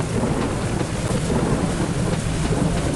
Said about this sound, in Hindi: बहुत ज़्यादा बारिश हो रही है, बारिश की वजह से बहुत ज़्यादा नुकसान हो रहा है